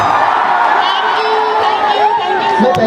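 A stage show audience claps and cheers loudly, a dense crowd roar with whoops and shouts, while voices carry over it.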